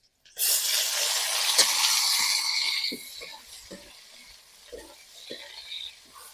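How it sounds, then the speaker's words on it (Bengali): Fish gills dropped into hot oil burst into a loud, close sizzle that flares sharply, then settles to a lower crackle broken by several stirring knocks against the pan. "সেটা আমি কানকো গুলা দিয়ে দেবো তেলের উপরে"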